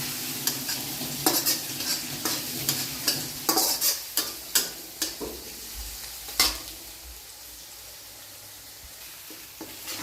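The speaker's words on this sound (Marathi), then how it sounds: "आपण आता आलं लसूणची पेस्ट टाकतोय" Ginger-garlic paste frying with onions in a pan for momo filling, stirred with a utensil: steady sizzle under a run of scraping stirs and clinks that come thick at first, then thin out, leaving the frying hiss alone near the end.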